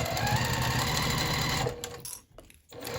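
A sewing machine stitches a fabric lanyard keychain with a steady, close mechanical whir. It stops for about a second, then starts running again.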